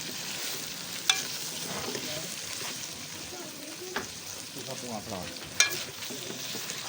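Chicken pieces frying in a pan with lightly browned onions, giving a steady soft sizzle with occasional sharp scrapes of stirring, close and moderately quiet, with faint talk in the background.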